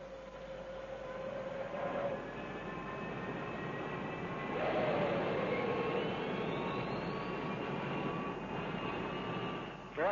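An airliner's number 3 engine spins up during start, a loud steady rumble with rising whines that climb in pitch as it turns over.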